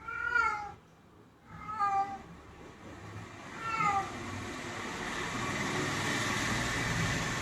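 A distressed cat meows and cries in a short series of plaintive calls, three distinct wails spaced a second or two apart, followed by a steady background hum of passing road traffic.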